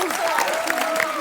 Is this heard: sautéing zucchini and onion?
no